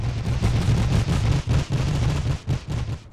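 Machine gun bunker fire in a Napoleon: Total War mod set in the Great War, heard as steady, loud bursts of rapid automatic shots with brief gaps between volleys, over a dense battlefield din.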